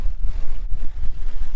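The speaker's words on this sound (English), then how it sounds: "The wind has continued to build." Strong wind buffets the microphone aboard a sailboat at sea under a reefed genoa, a loud continuous low rumble with gusty swells and no voices.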